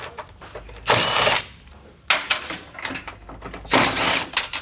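A 10mm socket wrench turns a bolt out on a Nissan 370Z near the charcoal canister, making three separate bursts of quick, close metallic ratcheting with brief pauses between them.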